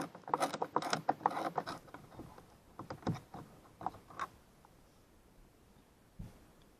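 A screwdriver backs out the screws of a PT Cruiser license plate light, making a close run of small clicking and ratcheting turns that thin out into sparse clicks.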